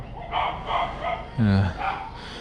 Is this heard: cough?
no